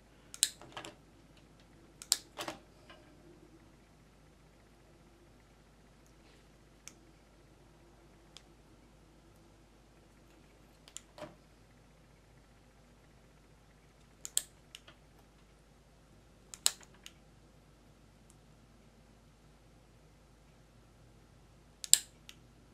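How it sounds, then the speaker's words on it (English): Sharp snipping clicks from trimming the plastic buttons of a Formula 1 race car alarm clock come in sparse, isolated bursts of one or two, about eight in all, in an otherwise quiet room. "Trim those buttons just a little bit."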